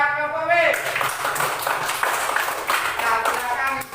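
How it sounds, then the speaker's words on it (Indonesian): A group in a school class claps for a team of students, brisk steady applause lasting several seconds after a spoken voice, with talk continuing over it. "Tepuk tangan buat kelompok B."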